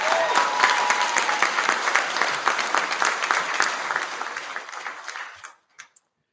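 A school senior prize-giving crowd claps steadily for a student award winner, a dense continuous round of applause lasting about five seconds before tapering off, with a couple of last isolated claps.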